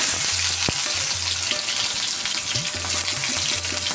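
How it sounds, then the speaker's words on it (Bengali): Garlic and onion sizzle in hot oil tempered with black cumin (kalo jire), a steady close frying hiss with soft stirring scrapes throughout, no talk. "ফোড়নটা ভেজে নিলাম এখন দিয়ে দিচ্ছি রসুন আর দিয়ে দেবো পেঁয়াজ"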